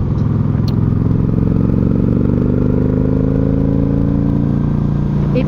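A motorcycle with a 2-into-1 exhaust idling and burbling steadily, a low, even rumble that stays fairly subdued and close throughout.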